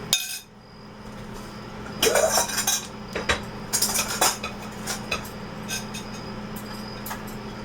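Tuna and onion are mixed in a bowl, with repeated clinks and scrapes of a utensil against the dish coming in irregular bursts, close and fairly loud, with no talking.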